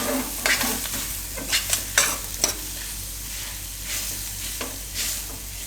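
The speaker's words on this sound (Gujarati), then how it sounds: "આમાં હવે આ કેળા આપણે નાખી દઉં અને મિક્સ કરી લેવાનું" Raw banana is stirred into a fenugreek mixture in a pan for Gujarati parathas, with a soft sizzle underneath and a few light scraping strokes of the spoon. It is close and fairly quiet.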